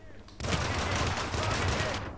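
Gunfire in the video game Hitman bursts out after a brief quiet moment, a dense sustained fusillade of rapid shots that continues loudly for nearly two seconds.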